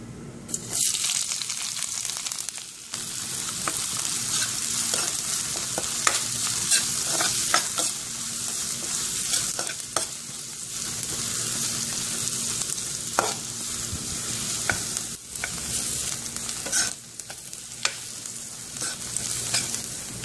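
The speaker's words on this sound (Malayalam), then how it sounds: "ഇതിലേക്ക് ഇനി സവാള ചേർത്ത് വഴറ്റാം. സവാളയോടൊപ്പം പച്ചമുളകും കറിവേപ്പിലയും ചേർക്കാം." Onions, green chillies and curry leaves sauté in hot coconut oil for a Kerala beef fry, with a steady loud sizzle and frequent stirring scrapes and clinks throughout, and no talking.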